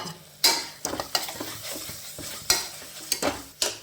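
Chili powder goes into a sizzling pan of onion, tomato, green chili and curry leaves for a chicken curry base, with a spoon scraping and clinking against the pan in irregular strokes over a low frying hiss, close up with no talking.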